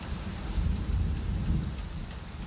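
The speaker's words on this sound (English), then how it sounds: "Auckland residents woke to dark skies, intense rain and mighty thunderclaps" Intense rain pours down during a thunderstorm in Auckland, a dense continuous roar with deep rumbling thunder beneath, loud and unbroken, with no voices.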